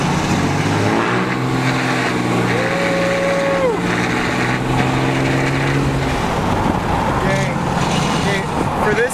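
A stock pickup truck with an aftermarket exhaust accelerating hard. Its loud, close engine roar climbs and holds in pitch, then eases back before building again.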